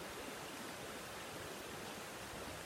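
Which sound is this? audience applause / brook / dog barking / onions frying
brook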